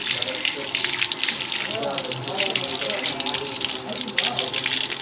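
Water runs steadily from a tap while knives are washed under it during a festive tool-and-weapon puja, giving a close gushing splash with some clinks of metal.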